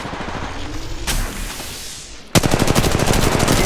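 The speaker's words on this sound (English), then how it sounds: "Target's right in front of me. Opening fire. Shots fired." Automatic and single gunfire in the Apex Legends Mobile video game, Kings Canyon map, fires in close, loud bursts, with a sharp onset into a rapid rhythmic volley toward the end.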